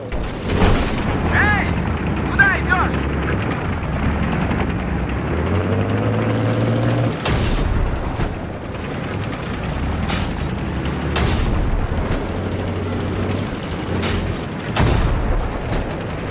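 Explosions and heavy booms from a Battlefield 3 multiplayer match, loud rumbling blasts mixed with sharp impacts and mechanical noise, with a player's voice talking over the game sounds.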